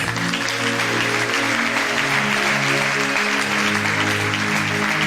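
A church congregation applauding loudly and continuously, dense steady clapping from a large crowd filling the room with no break, with faint voices mixed in.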